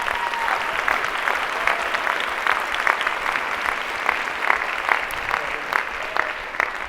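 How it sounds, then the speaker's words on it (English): An audience at a leadership event gives a round of applause, steady moderate clapping with some rhythmic accents, heard at a slight distance throughout. "Let's give them a round of applause."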